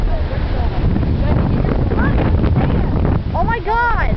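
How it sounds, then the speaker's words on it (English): Strong storm wind at Ormond Beach buffets the microphone in a loud, constant roar, with surf noise beneath and people talking and calling out over it. "Like the wind is like pushing me over."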